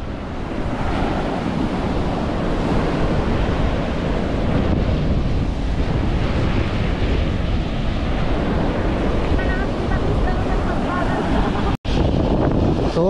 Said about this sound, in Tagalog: Lakas ng alon, oh.